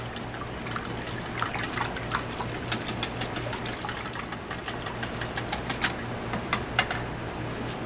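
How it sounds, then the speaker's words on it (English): Melted butter and wet cornbread batter ingredients whisked in a bowl for Southern cornbread, a quick, steady run of light clicking taps over a low constant hum, close by and with no talking. "I'm going to go ahead and whisk all that together"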